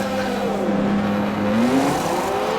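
A Formula 1 race car engine in a racing video game, a McLaren on soft tyres leaving the pits at the Spanish Grand Prix, droning steadily with a rising, whining pitch sweep over a constant background roar.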